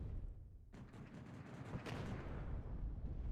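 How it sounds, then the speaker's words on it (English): Mortar fire in the WARNO strategy game: a dense rumbling barrage of explosions and booms, continuous and fairly loud throughout, with a sharp burst partway through. "Some mortar fire on the position of the Sultan with some smoke to protect it."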